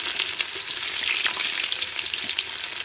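Green chillies and onions hiss and crackle steadily in hot oil for country chicken biryani, a dense, bright sizzle with occasional stirring scrapes, close and continuous.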